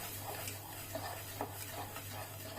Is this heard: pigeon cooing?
no